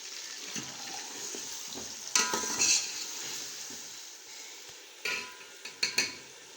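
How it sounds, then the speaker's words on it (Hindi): Tomato paste drops into a hot frying pan while cooking egg and potato pulao, giving a steady soft sizzle with a few sharper splutters and stirring scrapes near the start, middle and end. "अब ये टमाटर का पेस्ट डालेंगे"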